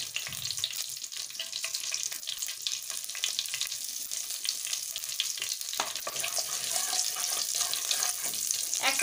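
Black cumin seeds frying in hot oil in a pan on the stove, a steady soft sizzle throughout with faint stirring and light clinks, close and fairly quiet, no talking.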